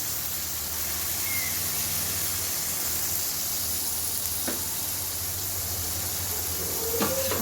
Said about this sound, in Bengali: আলুটাকে ভালো করে আলুটাকে ভাজবে সুন্দর করে